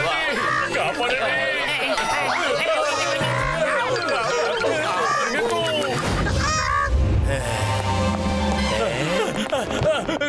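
A cartoon hen clucks and squawks loudly and repeatedly in a Motu Patlu animated scene, with busy music and effects and a voice shouting over it.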